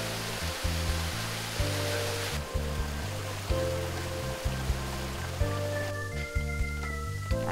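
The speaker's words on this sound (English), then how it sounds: "The sounds of a waterfall briefly interrupt the walk." A waterfall along a narrow path lined with stone walls in Hadong, South Korea, gives a steady rushing wash of water that holds an even level throughout, with no voices.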